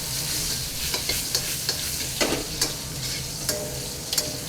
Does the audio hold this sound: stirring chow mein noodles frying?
yes